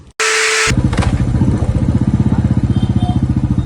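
A modified 500cc motorcycle with a chromed tank fires up after a brief hiss and settles into a loud, close, thumping idle with a fast, even pulse.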